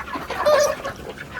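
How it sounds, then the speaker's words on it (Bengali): Broiler chickens on a poultry farm give a brief burst of close clucking and honk-like calls, heard alone with no talk. "তোমরা একবার আমার ফার্মের মুরগিগুলো দেখো কি সুন্দরভাবে আমি করে রেখেছি"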